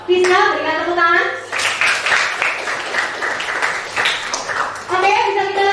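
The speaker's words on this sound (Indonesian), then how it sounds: "Terima kasih untuk Fiska, berikan tepuk tangan." A classroom of students claps for a classmate after she solves an equation at the board, a dense burst of applause from about 1.5 to 5 seconds, framed by a teacher's voice talking before and after.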